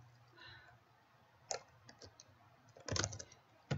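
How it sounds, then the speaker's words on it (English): Light typing on a computer keyboard while editing a web page, sparse quiet clicks in small irregular bursts close by, with a brief clustered flurry of keystrokes near the end. "This is me typing."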